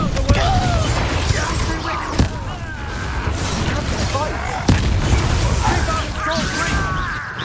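Confringo fire spell blasts in the Hogwarts Legacy video game, sharp cracking bursts at about two and four and a half seconds within a dense, continuous wash of game combat effects, with a voice talking over them.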